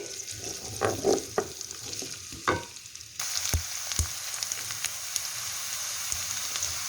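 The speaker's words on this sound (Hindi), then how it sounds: "अब इसके अंदर ये जो एक चॉप किया हुआ प्याज जो है वो इसको हल्का सा हम फ्राई करेंगे" Chopped onion hits hot oil in a pan, with a few clattering knocks first and then a sudden steady sizzle that carries on close and moderately quiet, with occasional stirring taps and no talk.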